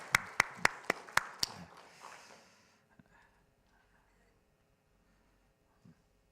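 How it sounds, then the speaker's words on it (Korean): Brief applause during a church worship service: about six sharp, evenly spaced claps close by, then a short smattering of clapping that fades out, leaving quiet room tone with a faint soft bump near the end. "우리 하나님께 영광의 박수 올려드릴까요?"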